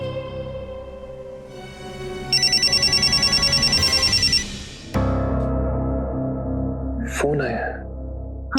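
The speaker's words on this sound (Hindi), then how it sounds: "फोन आया है। हाँ, फोन आया है।" Late-night telephone bell rings in a steady rapid burst for about two seconds, loud and close, followed by a sharp thud and a gasp-like voice.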